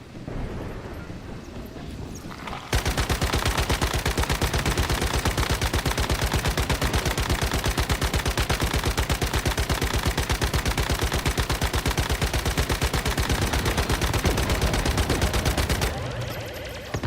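Sustained machine gun fire from the video game Once Human, a dense unbroken burst lasting about thirteen seconds, loud and close, starting abruptly after a quieter stretch and cutting off near the end.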